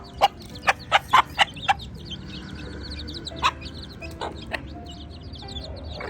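Chickens and young chicks being fed bits of bread, a hen giving a quick burst of sharp clucks, then scattered softer calls and peeps over faint background noise, no talk.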